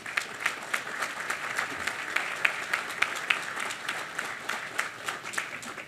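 A modest crowd claps at a port groundbreaking ceremony in Boston, giving a guest a round of applause. The clapping is fairly quiet and distant, with a steady patter and a few sharper individual claps standing out.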